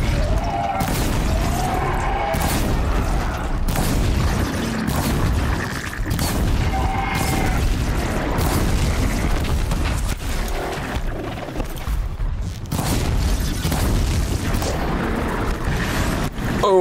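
Blaze igniting after being shot in a video game, a loud sustained roaring burst of fire and explosion noise filling the whole stretch, dense and continuous with a few sharper crashes.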